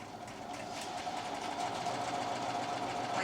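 A domestic sewing machine stitching back and forth while quilting down an appliqué leaf, running as a steady, fairly quiet mechanical whir that holds level throughout.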